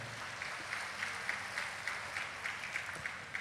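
An audience applauds a choir at a church ceremony for a newly ordained bishop, producing a steady, somewhat distant wash of clapping with a faintly regular pulse.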